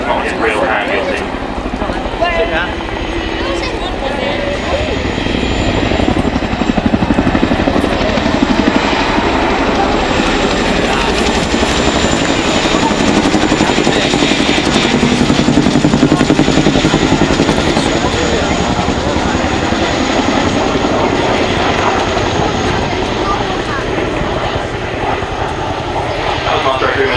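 A twin-rotor Chinook helicopter at the 2011 Waddington airshow roars loud and steady overhead, its heavy rotor thump and turbine whine continuous throughout, with a public-address commentator talking over it.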